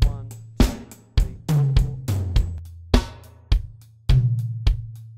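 A drum kit plays the beat of a song: punchy bass drum and snare hits in a steady, moderate groove with hi-hat strokes between them. The kit is close and clear, with no voice.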